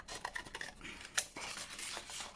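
Scissors cut a paper bookmark in a quick run of close, crisp snips mixed with paper rustle, with no voices.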